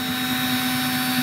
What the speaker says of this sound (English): I'll drill one more in the top here so I give myself a spot to